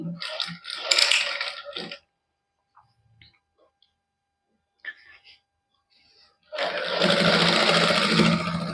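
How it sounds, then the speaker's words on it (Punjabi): A sewing machine bastes lace onto a simple suit in a boutique, running in two steady whirring bursts, one short and one longer, split by a near-silent pause, loud and close. "ਲੈਸ ਰੱਖ ਕੇ ਇੱਕ ਵਾਰੀ ਆਪਾਂ ਕੱਚੀ ਸਲਾਈ ਲਾ ਲਾਂਗੇ"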